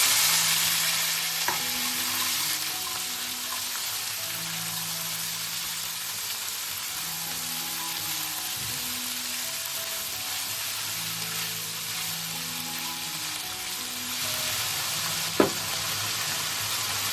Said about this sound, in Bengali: কড়াইতে তেলটা গরম হয়ে গেছে। সমস্ত সবজিগুলো এবার আমি ভেজে নেব।